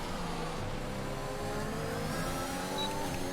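An F1 car's high-pitched engine roars steadily past in the F1 2021 video game at the Austrian GP, a continuous loud mechanical whine with shifting pitch and no talk.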